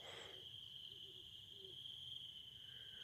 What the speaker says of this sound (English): That sounded like a great horned owl.